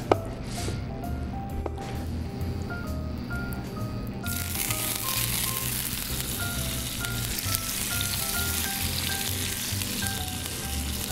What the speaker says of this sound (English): So I'm gonna kind of have these just pan seared on one side.